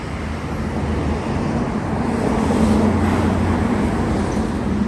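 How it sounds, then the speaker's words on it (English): Steady road traffic rumble on a walk in Rose Bay, with engines droning and passing vehicles, continuous broadband noise throughout, no voices. "with all the traffic, then it's going to get a little bit noisy"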